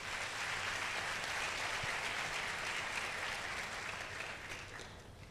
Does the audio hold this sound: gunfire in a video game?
no